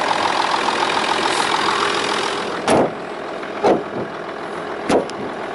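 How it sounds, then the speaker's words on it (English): A black Land Rover Discovery idles with its bonnet up, giving a steady engine hum broken by three brief louder knocks or clunks near the end. "Car's running. No vibration, no noises."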